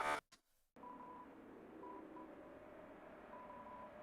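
Telephone dialing tones ring out in a video game phone call, a few short beeping keypresses in quick groups after a brief burst of noise, faint and alone.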